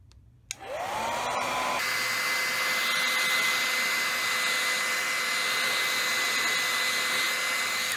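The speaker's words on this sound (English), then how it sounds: "you get your hairdryer and you start melting the wax." After a brief click, a hair dryer switches on to melt candle wax on a shoe, blowing with a steady, loud whirring hum that continues unbroken to the end.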